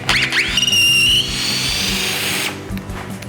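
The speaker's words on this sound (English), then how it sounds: "This thing will drive screws all day long." A Festool T-18 cordless drill drives a screw into wood, a close, loud whine that rises as the motor spins up, holds steady for about two seconds, then stops abruptly.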